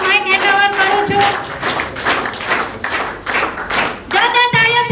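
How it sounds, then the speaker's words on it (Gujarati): Audience clapping at a company anniversary celebration in Vyara, Gujarat, a dense burst of hand claps lasting a few seconds, fairly close and loud, between stretches of someone speaking and tonal singing-like voice. "જોરદાર તાળીઓ થઈ જાય."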